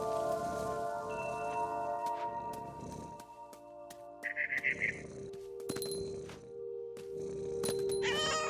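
Cat meowing in the game What Remains of Edith Finch, a few drawn-out, plaintive meows up close over steady rain pattering on a surface.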